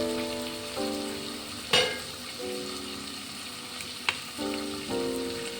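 Onions sizzle steadily in a pan as vinegar and soy sauce are poured in for veg manchurian, with a continuous frying hiss and a few sharper splashes or scrapes.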